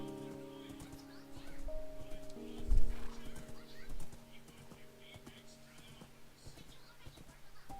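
Horse in the Minecraft video game: a whinny and steady hoof clip-clops at low level over a quiet game backdrop, with faint bird-like sounds and murmured talk.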